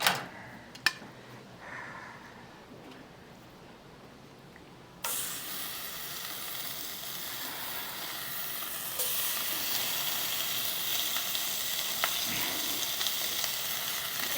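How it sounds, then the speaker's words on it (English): Bacon, five pieces cut in half, starts frying in a pan, a soft hiss that jumps louder as the strips go in, then a steady sizzle growing stronger over the rest of the clip, with no voices. "I'm going to go ahead and put the bacon in."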